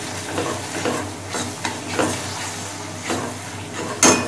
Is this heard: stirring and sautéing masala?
yes